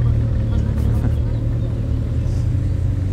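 Lamborghini Gallardo LP 560 arriving at a car club gathering, a steady deep engine rumble close by under someone talking.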